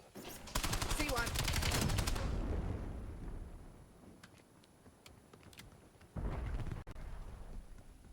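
Rapid gunfire rattles in a shooter video game, a dense loud burst lasting about two seconds, then quieter scattered shots and a second heavy burst near the end.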